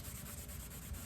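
Steady rubbing over wood, as a pencil mark is quickly erased from a black walnut and plywood Christmas stand, a continuous close dry scrubbing with no pauses.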